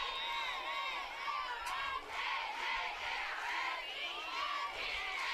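Crowd at a high school football game between Vista Del Lago and Riverside Poly cheering and shouting loudly, a sustained roar with rising whoops and yells from many voices.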